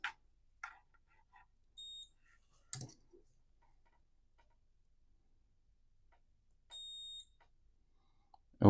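A multimeter in continuity mode gives two short, steady high beeps several seconds apart while a corroded Wii Remote circuit board is probed, with faint clicks and taps of the probes in between in a quiet room.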